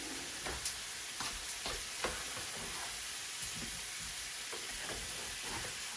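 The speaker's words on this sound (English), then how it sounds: "let me get a spatula and turn my potatoes" Roasted potatoes sizzle in a pan on the stovetop while a spatula turns them, giving several sharp scraping clicks over a constant hiss of frying, nearby and without speech.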